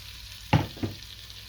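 Large onion and garlic dropped into a hot pan of oil while braising gluten-free short ribs, giving two quick sizzling bursts about a third of a second apart, then fading back to a faint background hum.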